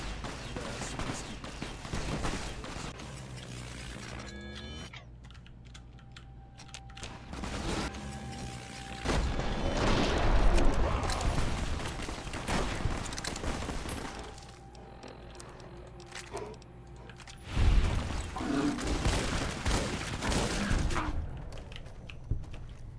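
Gunfire in combat from the modded video game Fallout New Vegas, with bursts of shots and crashing impacts over a steady game ambience, louder at intervals.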